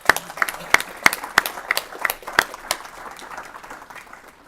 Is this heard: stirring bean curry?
no